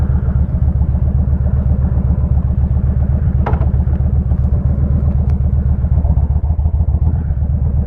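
A Kawasaki Vulcan 2000 cruiser with its 2053 cc engine idles close by, a loud, steady, throbbing rumble with an even pulsing beat that continues throughout, and no one speaks.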